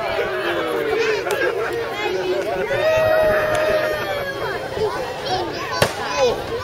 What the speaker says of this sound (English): Let's have a cheer for Moscow!